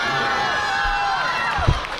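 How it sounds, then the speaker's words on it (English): Crowd cheering and shouting at a teen female Stage 1 run of the World Ninja League Championships, a dense, steady roar of many voices with a brief thump near the end. "a lot of cheering is going on for Malone Cantor"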